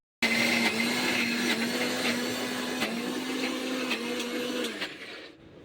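A kitchen mixer grinder whirs loudly and steadily while blending masala paste, starting abruptly, wavering slightly in pitch across a few seconds, then winding down at the end.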